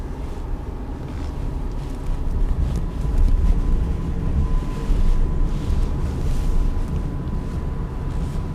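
Renault ZOE electric car rolling along on a nearly drained battery, a steady low road and wind rumble inside the cabin with no engine note, constant and moderately loud throughout.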